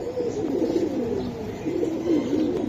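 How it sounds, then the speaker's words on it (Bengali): Hemar pigeons cooing close by, a continuous overlapping series of low throaty coos with a few faint chirps in the background. "হেমার কবুতর তাই না ভাই?"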